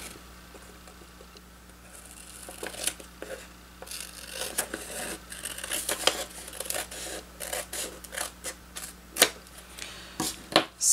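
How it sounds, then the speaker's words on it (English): Repeated crisp snips and scratchy rustles of scissors cutting a thin sliver from paper while making a zine, close up, irregular clicks growing busier over a low steady hum, with no talking. "you take your scissors and you're going to be cutting a very thin sliver off"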